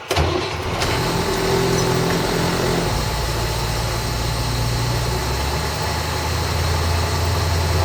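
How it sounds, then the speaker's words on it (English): A bus engine cranks and catches within the first second, then settles into a steady, loud, rumbling idle that runs on while air pressure builds back to maximum. "I will start my vehicle now to build my air pressure back to maximum."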